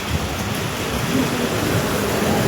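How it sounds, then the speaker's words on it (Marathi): Steady heavy rain pouring outdoors, a dense continuous hiss and patter, loud and close with no pauses. "तर हे बघा मित्रांनो कसा पाऊस चालू आहे"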